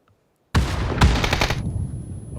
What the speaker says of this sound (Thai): แล้วเป็นการยิงมาแล้วครับ